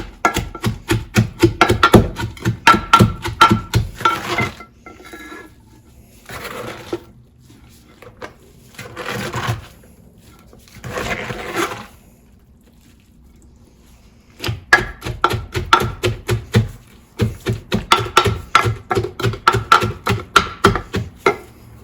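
Shredded red cabbage pressed and crushed down in a bowl for sauerkraut, giving bursts of dense rhythmic crunching and thumping that pause and resume, close and fairly loud.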